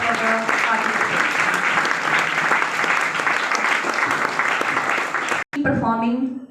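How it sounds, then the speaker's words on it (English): A school audience at a youth parliament prize distribution claps steadily and loudly for student participants, dense continuous applause that stops abruptly, followed by a brief spoken voice. "A big round of applause for the participants."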